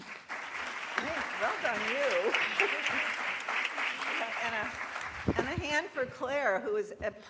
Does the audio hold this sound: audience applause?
yes